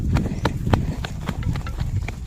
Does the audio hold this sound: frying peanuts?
no